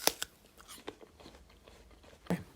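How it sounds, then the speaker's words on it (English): An apple is bitten and chewed close to the microphone, with a sharp crunch at the start, softer wet chewing after, and another crisp bite near the end, no speech. "I decided to start recording this voiceover whilst eating an apple."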